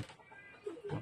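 A hen, a wild jungle fowl, gives soft, faint clucks, a low murmur then a couple of short clucks near the end, quiet and close.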